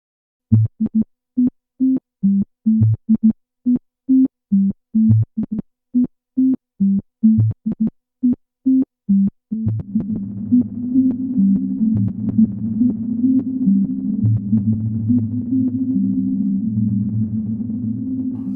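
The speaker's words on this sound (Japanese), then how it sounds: "こちらリバーブ信号にピッチ、ハーモニクス、ディストーションなどを加えることができます。" An effected guitar tone through a Strymon NightSky reverb pedal with pitch-shifted, gritty harmonics: a choppy run of short repeated notes, then a sustained, wavering wash of distorted sound.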